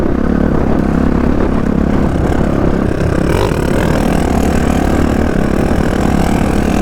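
Two off-road dirt bikes, a Crossfire 450RR and a CROSSx250se, run with a steady, dense engine drone that stays loud and unbroken throughout, with no voices.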